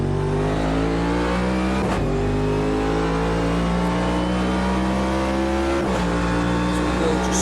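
The engine of the NASCAR Next Gen Camaro Garage 56 race car, set at Le Mans in the game Automobilista 2, roars close and loud as a constant drone whose pitch climbs steadily, broken by brief dips at gear changes.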